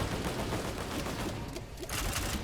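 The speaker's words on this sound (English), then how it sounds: "Airstrike? What the fuck is that?" Airstrike gunfire in the Risk of Rain video game makes a dense, continuous crackling barrage of rapid shots, fairly faint, with a brief dip before the volley picks up again.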